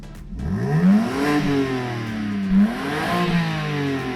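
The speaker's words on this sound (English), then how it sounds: "So you can't do an M4 without testing the exhaust, so let's give it a rev." A 2021 BMW M4 Competition engine revs hard twice through its exhaust, pitch climbing and falling back each time, loud and close with a throaty idle between bursts.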